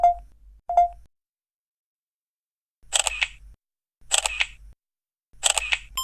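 Three crisp double-click shutter sounds from a Samsung Galaxy Camera, loud and close with pauses between them, after two short electronic beeps at the start.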